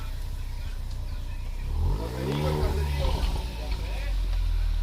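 A Ford Focus ST fitted with a catless downpipe revs up from idle, its engine note climbing and holding loud and close, with people talking over it.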